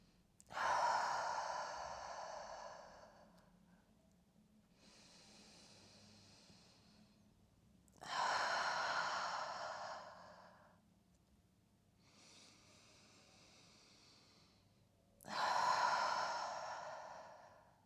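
Slow, audible breathing during yoga: three long, loud exhales through the mouth, each separated by quieter nasal inhales, with no talk.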